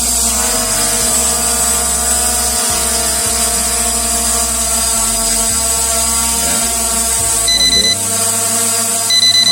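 The SG906 MAX (Beast 3) drone's obstacle-avoidance alarm sounds close by as a steady, rapidly repeating electronic beep over the constant whine of its rotors, with the pattern briefly changing near the end.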